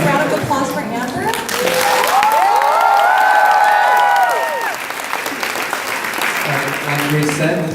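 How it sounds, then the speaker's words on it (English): An audience at a university event at UCR gives a guest speaker a sustained round of applause and clapping, with a few cheers, that swells and then fades over several seconds. "Can we get another round of applause for Amber?"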